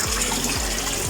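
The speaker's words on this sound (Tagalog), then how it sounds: "Grabe kabugno kayong tubig dari o." Water at a spring gushes strongly and steadily, a close, loud broadband rush that fills the whole moment without pause.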